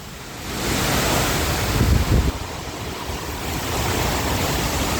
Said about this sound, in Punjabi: ਬੇਹੱਦ ਮੀਂਹ ਆ ਗਿਆ ਬਾਈ